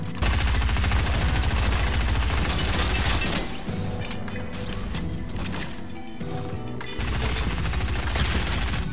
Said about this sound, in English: Hey, dude, how you not hear me shooting?